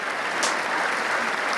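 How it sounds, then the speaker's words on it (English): Applause from a studio audience at the start of a finance talk show, a dense steady burst of many hands clapping together, loud and close, with no individual claps standing apart. "You ready? 3 claps."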